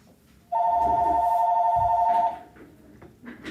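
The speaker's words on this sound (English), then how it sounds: "Just because the phone rings." A house phone rings in a room, one steady electronic ring lasting nearly two seconds, loud and close, then stops; a person speaks faintly afterward.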